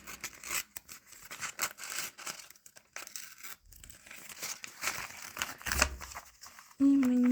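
A small sticker packet with a cute cats theme is torn open and unpacked by hand, giving close irregular tearing and crinkling bursts with short pauses, before a voice begins speaking at the end.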